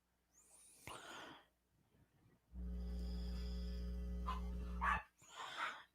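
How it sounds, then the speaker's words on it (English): Dogs playing and scuffling in the background, with a few short bark-like bursts at moderate distance, partly covered by a steady loud low hum in the middle stretch. "And look, Red Rooster, you can hear it in the background. Them dogs, he's in there playing with them and fighting with them."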